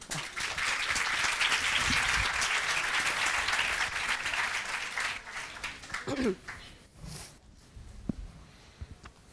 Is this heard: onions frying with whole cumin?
no